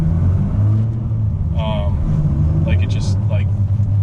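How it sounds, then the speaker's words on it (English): A turbocharged sports car accelerating hard gives a steady, loud engine rumble from inside the cabin, with a person talking over it. "Those turbos running. It's beautiful."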